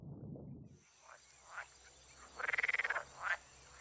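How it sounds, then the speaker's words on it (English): Common water frogs, marsh frogs and pool frogs croak in a spring pond, with a rapid pulsed trill and a few shorter croaks at moderate distance over a steady background hum. "Common water frogs, marsh frogs, and pool frogs gather in the ponds."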